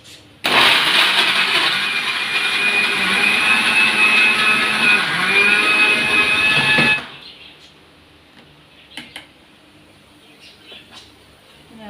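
A mixer grinder grinds a sweet crumb mixture, whirring loudly with a harsh high whine for about six seconds, then cuts off, leaving a few faint clinks and quiet.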